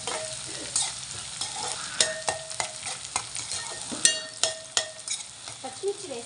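Chopped onions and green chillies frying in an oil-filled pan for cabbage curry, a steady sizzle broken by repeated sharp scraping and clinking strokes of a stirring spoon against the pan, close and lively throughout.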